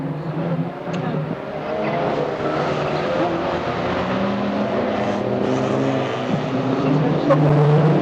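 Racing cars, including a 1600 stock hatch, lap a race track. Engines drone steadily near and far, and an announcer talks over the noise throughout.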